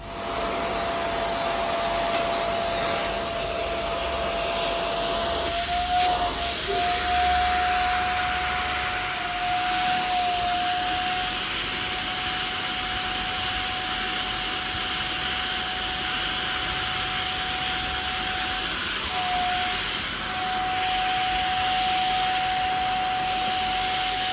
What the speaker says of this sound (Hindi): हम इसको वैक्यूम क्लीनर की मदद से करेंगे क्योंकि जल्दी हो जाता है।